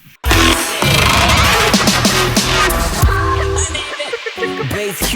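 Third drop of a hip hop track built on sampled drums stitched together as audio, kicking in loud and full with heavy low-end beats and layered samples that run for about five seconds, thinning slightly toward the end.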